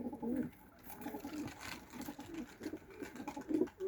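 Pigeons around a backyard loft coo softly and intermittently, with faint rustling and movement nearby at low volume and no speech.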